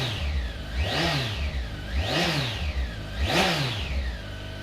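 Kawasaki ZZR1400 from 2009, a 1352cc hypersport motorcycle, revving in three smooth rising and falling sweeps over a steady idle, close and moderately loud.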